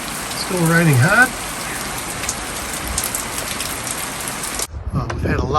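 Heavy rain pours steadily onto a boat hauled out at a yard, a dense close hiss of drops. A voice sings briefly near the start, and the rain cuts off near the end.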